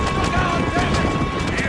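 A horse gallops flat out, hauling a chariot during a race in the video game Red Dead Redemption. Steady hoofbeats and rolling wheel noise run under a dense, continuous mix of game sounds.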